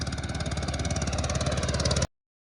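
A tractor engine runs close by, steady and chugging with a regular pulsing rhythm, cutting off abruptly after about two seconds.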